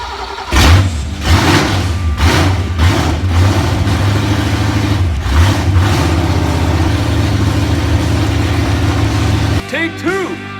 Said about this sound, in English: my 67 finally fired back up